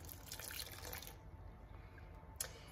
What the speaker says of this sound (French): Donc je vais verser donc mon eau là-dedans.